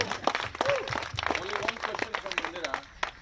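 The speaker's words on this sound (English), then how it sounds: "A big round of applause for Mandira Bedi" Audience claps at a hotel wellness event, scattered irregular hand claps mixed with cheering and chatter, moderately close, a lively clatter beneath overlapping voices.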